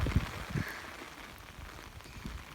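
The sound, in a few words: rain pouring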